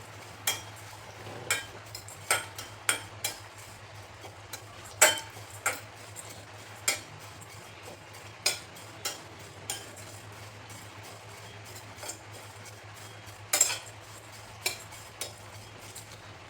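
Flattened rice (poha) is dry-roasted and stirred in a pan, the spoon giving light, sharp clinks and taps against the metal about once a second over a low, steady hum.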